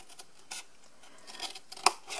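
Scissors cut along the score line of a cardboard Molton Brown shower gel gift box, giving a few quiet, separate snips with a sharper click near the end.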